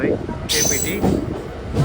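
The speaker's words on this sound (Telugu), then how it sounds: "సో మన ట్రైన్ అయితే కాట్పాడి జంక్షన్కి అయితే వచ్చేసింది" A passenger train pulls into Katpadi Junction, a steady close rumble of rolling wagons with a brief brighter hiss partway through, while voices murmur underneath.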